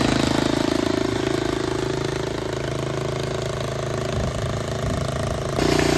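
Homemade tractor engine running steadily as it crosses rocks, a loud continuous mid-pitched drone with a brief rise in intensity near the end.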